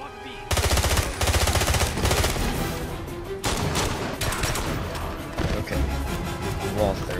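Walther P99 pistol fire in the James Bond 007: Blood Stone video game comes in rapid, dense bursts of shots with short breaks between volleys, loud and close, with some game noise mixed in.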